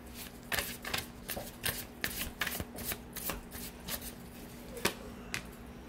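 Tarot cards are shuffled in quick, papery riffling bursts, close and fairly quiet, repeating in an uneven rhythm with a faint hum beneath.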